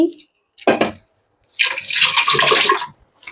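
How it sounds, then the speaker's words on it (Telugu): Cleaned basa fish fillets rinsed under a running kitchen tap: a short splash, then a longer burst of gushing water close by, with a brief voice at the start. "సో దాన్ని మనం జస్ట్ వాష్ చేసుకొని వండేస్తే సరిపోతుంది"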